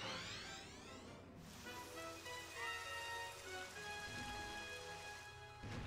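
Rainfall in the Super Mario Galaxy video game, a steady hiss of pouring rain layered under sustained game music tones, fairly quiet and continuous with no voices.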